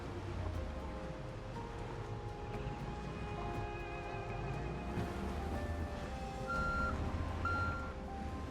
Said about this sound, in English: Good old reverse beepers.